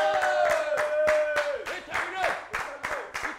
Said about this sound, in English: Clap your hands and shout fire